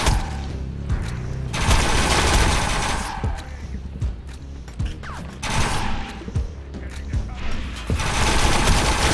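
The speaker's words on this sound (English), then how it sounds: "Oh my god, rockets." Rocket explosions and gunfire in the video game Defiance: rapid, continuous bursts of shots mixed with booming blasts, loud and chaotic throughout, with a short voice under the noise.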